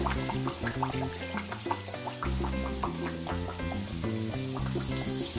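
Fry bake dough sizzles and bubbles in hot oil, a soft, quiet crackle with scattered pops running under steady background music.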